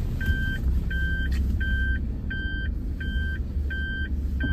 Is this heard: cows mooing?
no